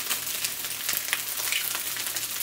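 Two eggs cracked into the center of a hot pan, frying with a close, steady crackling sizzle dotted with small pops and occasional spatula scrapes, no voices.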